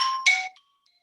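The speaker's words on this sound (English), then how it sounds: "Very loud phone" A very loud phone ringtone chimes in a room during a board meeting, a bright electronic melody of a few quick notes that cuts off after about half a second, with no talk over it.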